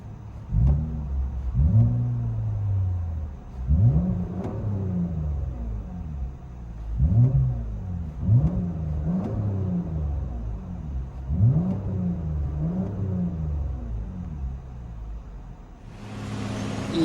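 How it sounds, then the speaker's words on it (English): A 2022 Lexus ES 350 with a 3.5L V6 and muffler delete, heard from inside the cabin, revs repeatedly in a steady series of rising, booming bursts over a low rumble, with no talking. "Lexus ES350 muffler delete."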